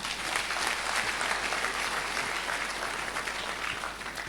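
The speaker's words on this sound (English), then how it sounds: "A round of applause for him." At a university congregation ceremony, a large audience breaks into sustained applause, many hands clapping in a thick, even wash.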